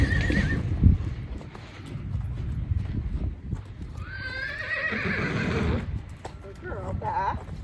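A horse, a mare being trained on a lead rope, clip-clops along at a walk and gives a whinny partway through. A handler talks over the sound at close range.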